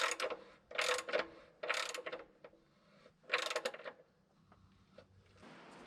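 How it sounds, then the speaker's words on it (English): A tapered plug wrapped in Teflon tape is threaded into a bushing, making close, rhythmic scraping and ratcheting bursts as it turns, then fading to quieter handling noise. "And then now I thread this into my bushing."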